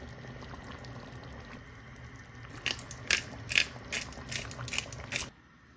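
Pot of bean soup at the boil being mixed, a low simmering bed with a burst of sharp scraping and clinking strokes near the end before it cuts to quiet.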